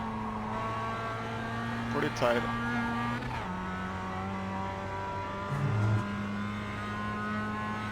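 Mazda MX5 race car on the Oulton Park circuit in iRacing, engine droning steadily with a brief rev blip and gear change as it brakes and downshifts to third, all under continuous commentary.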